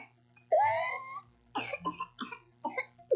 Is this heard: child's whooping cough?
yes